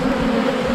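Bees swarm around a destroyed beehive in September, a dense, continuous close-up buzzing that stays loud and steady throughout.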